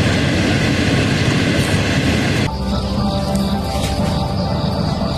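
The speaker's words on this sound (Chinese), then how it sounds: "这趟车是成都开往北京西的。" Chinese passenger train from Chengdu to Beijing West running, a loud, close roar of wheels and carriage rattle that quiets abruptly partway, leaving a softer steady rumble with rhythmic clatter.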